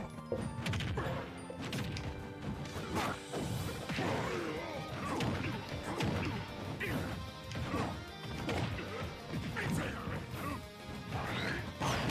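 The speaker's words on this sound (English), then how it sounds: "Just rolled behind him and forward smashed." A Ganondorf forward smash lands in a Super Smash Bros game, a loud crashing hit heard amid a dense, busy mix of game effects and music.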